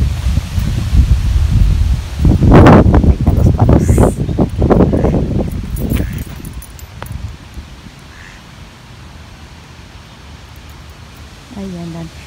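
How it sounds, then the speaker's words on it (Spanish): Strong gusty wind blowing through a park in Grand Island, Nebraska, buffeting and rustling loudly for several seconds, then easing to a quieter steady rush. "Está haciendo bastante viento"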